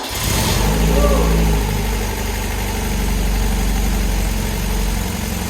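A neglected Marlin engine fires up with extra choke and settles into a steady, rumbling idle, loud and close throughout, with a voice talking over it.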